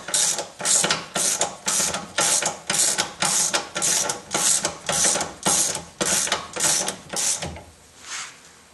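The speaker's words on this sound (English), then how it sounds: "You want to run this in with a ratchet" Steady back-and-forth clicking of a ratchet driving in the rear hub assembly nut on a 2000–2005 Dodge Neon, about a dozen even strokes close up, then a softer final pull.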